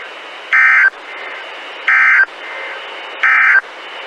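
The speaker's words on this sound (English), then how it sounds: "this has only been a test of the National Weather Service's radio warning alarm tone." Three loud, evenly spaced bursts of the National Weather Service weather radio warning alarm tone, a steady electronic tone, sound over a faint background hiss, each lasting about a third of a second.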